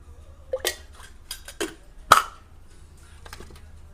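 A spoonful of oil goes into a pan for North Karnataka groundnut chutney, marked by a handful of sharp, light metal clinks of spoon against pan, spaced unevenly over a low steady hum.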